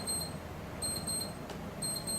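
A timer alarm goes off: bursts of thin high electronic beeping repeat about once a second, in short groups separated by brief pauses, over a steady low background hum, fairly faint and with no one talking.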